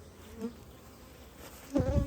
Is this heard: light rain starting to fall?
no